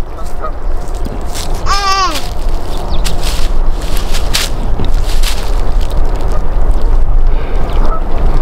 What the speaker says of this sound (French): Voilà tous les canards qu'il y a là-bas.